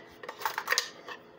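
A small metal spoon scooping seasoning, giving a few light, close clinks and scrapes in quick succession, faint and alone.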